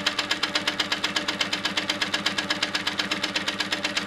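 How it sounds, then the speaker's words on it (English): A domestic sewing machine runs steadily, stitching an echo quilting line through quilt top, fabric and batting, with a fast, even mechanical chatter and rhythmic needle pulses, close and continuous with no voices. "So I'm going to stitch out here, putting the edge of my foot along my previously stitched line"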